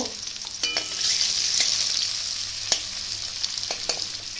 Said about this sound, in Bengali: কড়াতে আমার পেঁয়াজটা ভাজা হচ্ছে